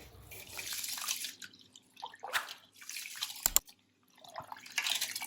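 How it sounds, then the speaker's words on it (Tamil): Rice is washed by hand in water for idli batter, making quiet, intermittent splashes and drips with a few sharper sloshes in between short pauses. "இது அரிசி கழுவிக்கலாங்க"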